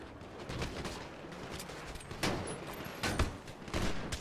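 Faint gunfire in GTA V, a steady, quiet crackle of repeated shots with a few sharper bursts toward the end, heard from some distance.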